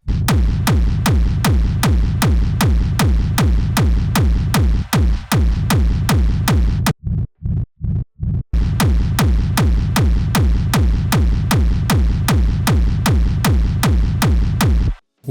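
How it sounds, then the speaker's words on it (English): A hard techno kick drum pounds in a steady fast four-on-the-floor pattern, each hit a punchy click followed by a deep rumbling tail, loud and continuous, with a brief stripped-down break of a few bare thuds before the full pattern returns. "We have a pretty sweet hard techno kick."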